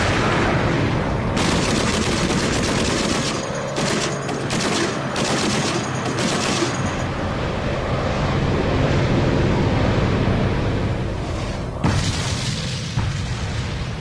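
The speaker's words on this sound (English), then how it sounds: "An explosion starboard." War sound effects for a D-Day story: heavy booms and explosions mixed with bursts of rapid gunfire over a rumbling sea-like roar, with a sharp blast near the end, loud and continuous.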